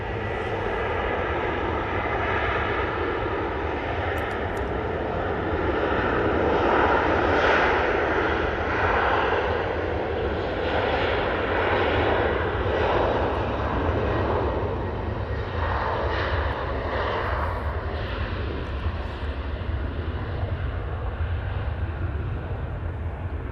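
A Ryanair jet departing Manchester Airport roars steadily from a distance, a broad continuous rumble that swells slightly and holds for over twenty seconds, with no voices.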